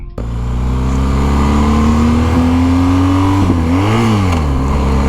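A BMW R 1250 GS motorcycle engine revs hard and loud and close, its pitch climbing steadily, then dipping and rising again as the quickshifter cuts in around 5000 rpm.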